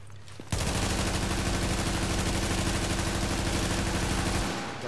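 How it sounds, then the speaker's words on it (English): Sustained rapid gunfire in The Division, a dense continuous burst of shots lasting several seconds, loud and close, starting abruptly and tapering at the end. "I hear gunshots."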